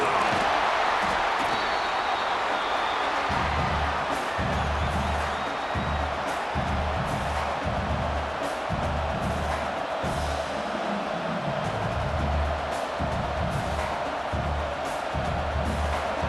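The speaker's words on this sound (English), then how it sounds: "this home crowd is fired up and ready to make a difference today" A home crowd fills a college football stadium during an Oregon Ducks vs. Iowa Hawkeyes game, a dense continuous roar of cheering that holds steady throughout with rhythmic low thumps beneath it.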